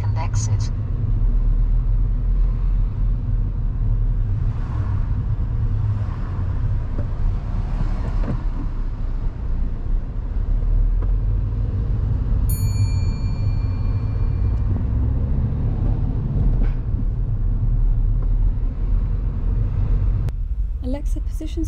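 A car on a driving test passes through a roundabout, its steady engine and road rumble droning continuously from inside the cabin while someone talks.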